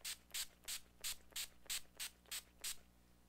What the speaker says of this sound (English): I'm actually using the NYX setting spray just like she did, and I'm just gonna go ahead and place that all over the face.